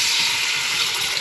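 Water pours steadily into a pot of beef for nihari, a continuous bright hissing splash with no break, close and fairly loud with no voices.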